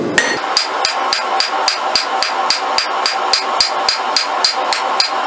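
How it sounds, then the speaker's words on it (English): A railroad spike being forged into a clip point Bowie knife blade is struck with a hammer on an anvil horn, giving about eighteen sharp, ringing metallic blows in an even, steady rhythm. "come up here to the horn of your anvil and help draw the length out of your blade as well."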